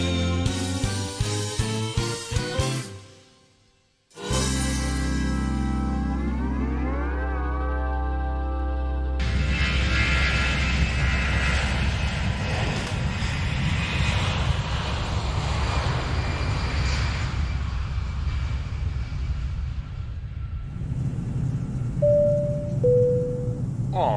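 A steady airplane engine drone, used as a sound effect behind a flight announcement, plays for a long stretch after a few seconds of music, with a short chime near the end.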